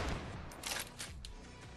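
Gunfire in the ScarFall 2.0 battle royale video game, a few sharp shots landing close together over a steady loud background of game sound.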